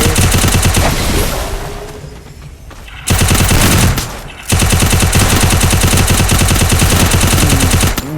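Rapid automatic gunfire from a shooting video game rattles in loud, dense bursts, with two short lulls where the firing drops away before resuming at full intensity.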